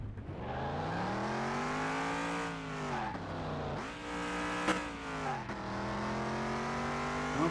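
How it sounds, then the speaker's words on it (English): A car engine revs hard through a speed run, pitch climbing through several gear pulls with brief dips between shifts, loud and close from inside the vehicle, no talking. "Listen to that engine."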